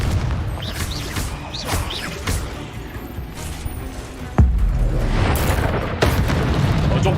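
Confringo blasting spell explosions in Hogwarts Legacy during a spell-casting battle, with a sudden heavy boom followed by further blasts and sustained rumbling, layered over earlier whooshing spell effects.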